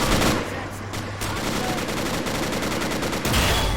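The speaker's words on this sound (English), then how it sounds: "I hear a DP-27. Enemy machine gun out there firing at us somewhere." An enemy DP-27 machine gun fires in the video game Men of War: Assault Squad, rapid bursts of gunfire crackling densely and loudly for the whole stretch.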